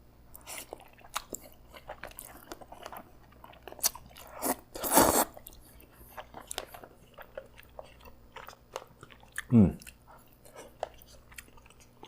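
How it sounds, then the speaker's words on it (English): Someone chewing a bite of Korean convenience store spaghetti and meatballs, soft close wet mastication sounds with a few louder clicks and smacks, no talking. "Let's take a bite."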